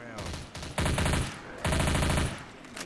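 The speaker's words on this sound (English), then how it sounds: "I stop shooting as soon as Claude said that" Automatic gunfire in the Left 4 Dead 2 video game, two loud sustained bursts with a short pause between, over faint game ambience.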